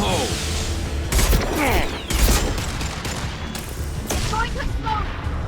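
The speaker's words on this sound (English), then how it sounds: "Going to explode!" Explosions and bursts of gunfire from the Mass Effect 2 video game, loud booms and rapid shots repeating through a combat scene, with game voices calling out over the battle.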